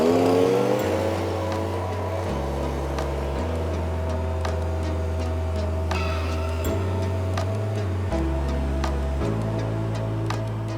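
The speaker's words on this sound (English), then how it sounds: "we've got our Stihl SH86. This is a shredder blower, so we can blow us sand off for us." A Stihl SH86 shredder blower runs close by, its engine droning with shifting pitch steps as the throttle changes while it blows sand off paving stones. No one speaks.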